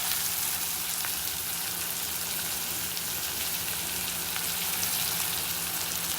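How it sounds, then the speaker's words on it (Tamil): Onions sauté in a hot pan for paneer bhurji, giving a steady, even sizzle throughout at low level with no talking. "வெங்காயத்தை நல்லா வதக்குறோம்."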